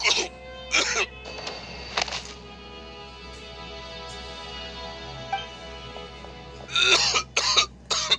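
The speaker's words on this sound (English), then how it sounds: "Why is he coughing so much?" A man in Genshin Impact coughs in harsh bursts, a few separate fits spaced across the clip, fairly close, over a quiet steady background hum.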